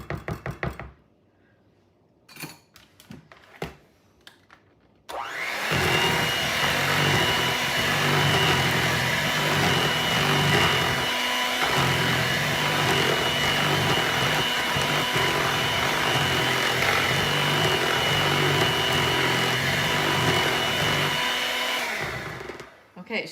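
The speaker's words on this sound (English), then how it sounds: "I'm going to use my mixer again, but I'm only going to mix this until they're combined and smooth" A few sharp knocks and clatters come first, then an electric mixer whirs loudly and steadily through an ice cream base for about eighteen seconds before stopping abruptly.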